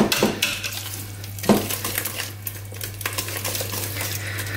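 Butter being stirred by hand into hot cream in a pot for a banana cake: repeated metallic spoon scrapes and clinks against the pot, close and fairly loud, over a steady low hum.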